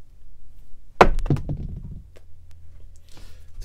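At a Hawaii casino craps game, a pair of dice lands on the table with a crisp knock, rattles through a few rapid bounces and comes to rest, close by, followed by low background room murmur.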